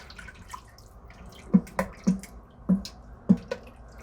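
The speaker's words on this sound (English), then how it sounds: "Give that a stir." A spoon stirs French pea soup with water in an Instant Pot, making four soft, wet knocks spaced about half a second apart against a quiet background.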